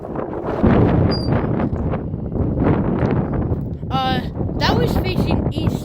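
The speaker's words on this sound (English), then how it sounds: "Yeah, it's really windy." Strong wind buffets the microphone at a railroad crossing with rocking gate arms in Shelby, Montana, giving a continuous loud rumble and gusting roar, with a few high squeaky tones near the end.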